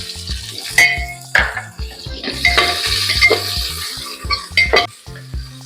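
Onions and ginger-garlic paste sizzle and fry in a pan while a utensil stirs and scrapes against the metal, with clinks, loud and close, no talking.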